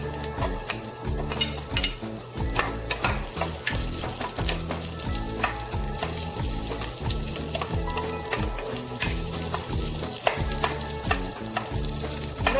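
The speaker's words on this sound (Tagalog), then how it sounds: "Maglagay tayo ng mantika. Gigisan na natin yung mga ano dito. Umpisa natin mag-gisa sa bawang." Garlic sautés in cooking oil in a pan for a chicken tinola soup, with continuous sizzling and repeated scraping stirs at a close, moderate level, with no voices.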